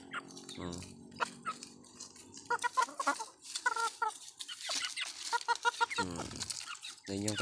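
Pet chickens cluck repeatedly in short bursts, close and fairly loud, with a few rising calls mixed in over a quiet farmyard background.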